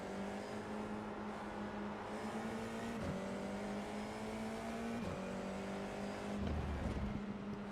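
Formula 4 race cars braking at Laguna Seca: a loud, steady engine drone with sharp drops near the three-, five- and six-and-a-half-second marks as the cars slow, heard up close without talk.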